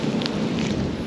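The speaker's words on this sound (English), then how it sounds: "You can see all the sand blowing around in the wind there, it's pretty windy." Strong wind gusts across a sandy beach, whipping sand around and buffeting the microphone with a steady, close broadband rush that never lets up.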